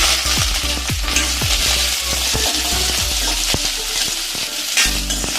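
Cubed capsicum and onion stir-frying in a hot pan for gobi manchurian, a steady loud sizzle with repeated scraping strokes of a spatula throughout.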